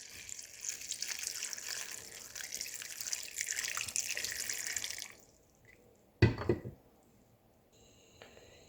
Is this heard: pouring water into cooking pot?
yes